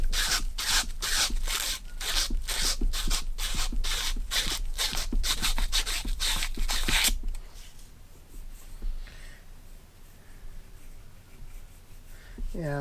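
Sandpaper scrubbed by hand over a water pump part from a Mercury 115 hp inline-six outboard: rapid, loud, rhythmic rasping strokes for about seven seconds, then quiet handling noises.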